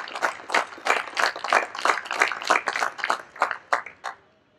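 A small group claps at a business ceremony, with steady rhythmic hand claps close by for about four seconds, fading out at the end, with no talk over them.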